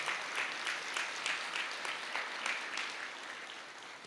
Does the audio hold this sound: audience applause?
yes